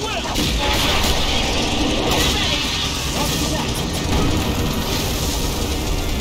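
Continuous loud battle gunfire and booming artillery from the real-time strategy game Starship Troopers: Terran Command roar without pause, a dense wall of shots and blasts.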